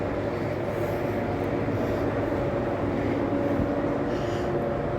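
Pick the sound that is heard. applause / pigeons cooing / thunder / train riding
train riding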